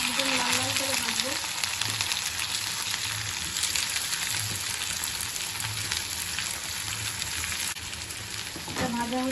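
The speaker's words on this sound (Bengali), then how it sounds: "পেঁয়াজগুলো একদম লাল লাল করে ভাজবো।" Onions fry in smoking-hot oil in a kadai, giving a steady, bright sizzle with soft bubbling throughout. A low rhythmic hum pulses underneath, and brief voiced sounds come at the start and the end.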